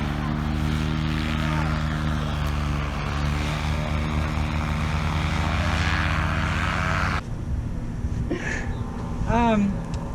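A SkyTap Angel paramotor engine and propeller in flight, a loud steady droning buzz with harmonic tones for about seven seconds, then a sudden drop to quieter rumble and wind with a brief rising whine.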